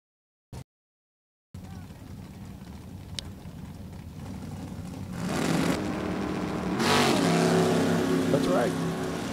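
Drag race cars roar at National Trail Raceway, including a Chevrolet Camaro, the engine noise swelling louder and broader partway through and holding steady, with a brief burst near the start before a short silence.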